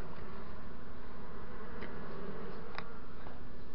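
Honeybees drone in a dense, steady buzz at an open hive as smoke drives them off the comb, close and continuous, with a few brief clicks and taps of beekeeping work.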